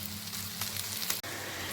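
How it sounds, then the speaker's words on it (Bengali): Chopped onion and garlic frying together in a pan, a steady soft sizzle with no talk, faint and even, with a low constant hum underneath. "আর এখন আমি পেঁয়াজ সহ রসুনগুলোকে আরেকটু সময়ের জন্য ভাজা ভাজা করব, যতক্ষণ না পর্যন্ত রসুনের কাঁচা গন্ধ চলে যাচ্ছে।"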